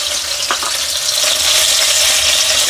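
Brinjals with ginger-garlic paste fry in a pan with a loud, continuous close-up sizzle, broken by a couple of brief clinks or stirs near the start.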